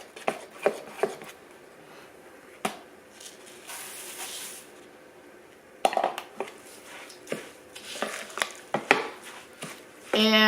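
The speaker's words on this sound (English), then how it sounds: "we're going to mix in the oats" Oats being stirred into oatmeal coconut muffin batter in a bowl, heard as scattered scraping and clinking of a spoon against the bowl, with sharp taps at irregular intervals and some quieter rustling between them.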